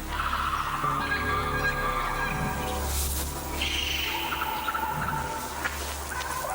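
Strange honking, goose-like calls of prehistoric creatures in an underground world ring out over a low rumbling drone, several cries overlapping at moderate distance with no speech.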